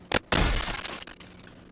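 Window glass breaks in the Project Zomboid video game, a brief loud crack followed by a longer shattering crash with scattered falling shards, heard alone.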